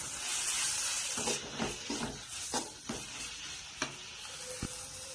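Ginger garlic paste frying in a pan for Kerala koorka masala curry, a steady bright sizzle broken by stirring scrapes and clicks, close and fairly quiet.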